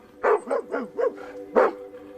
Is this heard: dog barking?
yes